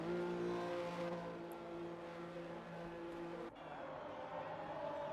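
Steady engine drone of the Aston Martin safety car in the F1 2021 racing game at the Russia round, a sustained harmonic hum that dips briefly and resumes, close and continuous.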